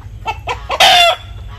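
Purebred American chickens, a male and three females, in a pen give a few short clucks and then one louder squawking call, close by.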